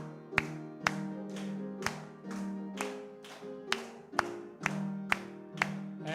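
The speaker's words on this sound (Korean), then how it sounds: "우리 함께 뜨겁게 박수하면서 찬송 올려드린 다음에" A church congregation at a Wednesday service claps together along to a hymn, about a dozen sharp, evenly spaced claps in steady rhythm over sustained organ or keyboard chords.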